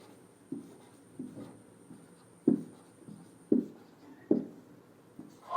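Pen or pencil writing a sentence by hand, soft scratchy strokes in a loose rhythm with several sharper taps, close and quiet against a faint background hum.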